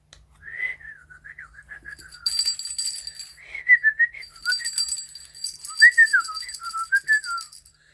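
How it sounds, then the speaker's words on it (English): Birds sing high in the branches of a tree, with clear, whistled phrases that rise and fall, trilling notes coming and going in bursts over a quiet background. "Little Gnome could hear the birds come by."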